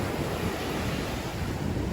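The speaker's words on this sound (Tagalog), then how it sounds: "Pero wala akong nakikitang mga naliligo kasi sobrang lakas ng alon guys." Strong surf at Limliman Beach in San Felipe, Zambales, a continuous loud wash of crashing waves mixed with heavy wind buffeting the microphone, no voices.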